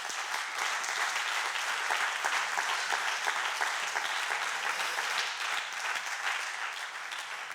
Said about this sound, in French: Donne des bonnes acclamations à ton Dieu, s'il te plaît